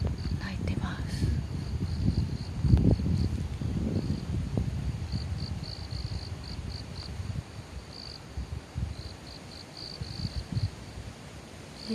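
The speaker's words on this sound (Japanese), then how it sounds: "コオロギさんたちがリリリリと" Crickets chirping in the morning under a banyan tree, repeated short high trills, steady and moderately near, with a person talking softly over them.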